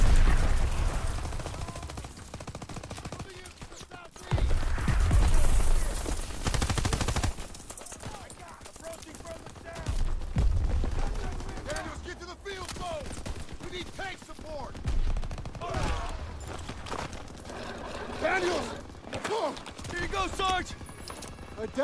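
A World War II battle in the Call of Duty WWII video game, with loud bursts of gunfire and machine-gun fire running throughout. Shouted voices and game effects mix with the shooting.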